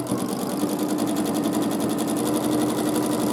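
A sewing machine running steadily at speed while free-motion quilting large swirls on a big quilt, its rapid even needle rhythm close and continuous throughout with no talking.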